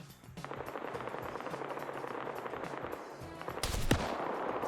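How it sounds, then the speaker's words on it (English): Rapid gunfire bursts crackle through a video game firefight, with repeated shots and a sharp ricochet near the end, dense and continuous. "Another shot goes by. It ricochets above Shepard's head because the shot was a little too low."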